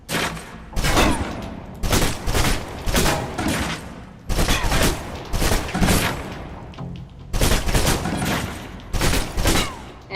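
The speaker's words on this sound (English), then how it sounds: "Now, let's move on to the submachine gun. Now let's empty the clip." Submachine gun fire in the video game Alpha Protocol, a full clip emptied in several loud sustained bursts separated by short pauses, with no talking.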